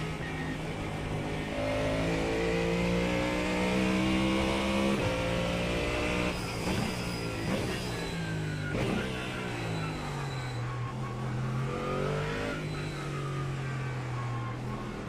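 Race car engine roaring in a racing video game, holding a steady loud drone with pitch shifting up and down through gear changes and revving, continuous and close with no talk.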